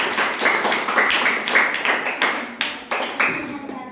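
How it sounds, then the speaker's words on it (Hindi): Children in a classroom clap together in a burst of repeated, fairly loud applause-like claps lasting several seconds, the rhythm uneven as many hands join in. "ताली बजाओ"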